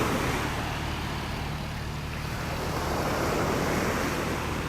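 Surf rolling onto a beach in North Naples, Florida, a steady loud wash of breaking waves with heavy wind buffeting the microphone and no talking.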